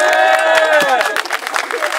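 A crowd claps and cheers loudly, with a voice calling out over the applause before the clapping thins into scattered claps.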